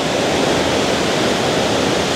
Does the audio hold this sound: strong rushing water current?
yes